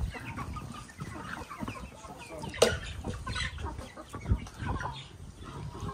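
Chickens cluck and murmur inside a farm coop, a busy close flock with overlapping calls and one sharper squawk, no talk over them.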